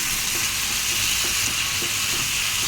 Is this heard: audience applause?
no